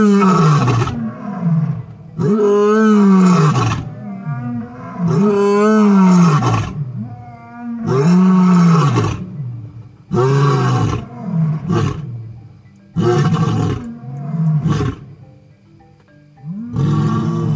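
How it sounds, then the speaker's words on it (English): Two lion brothers roaring at night, deep and loud, trading long rumbling roar sequences that swell and fade in repeated bouts with brief silent pauses between them, close and alone. "Their roars are so loud and low-pitched"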